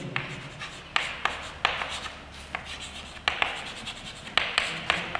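Handwriting strokes on a board or paper while writing out the statement of Hooke's law in a physics lesson on elasticity of solids: close scratchy strokes in quick bursts with short pauses between words, no voice over them.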